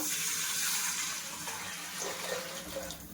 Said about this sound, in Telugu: వాటర్ యాడ్ చేస్తున్నాను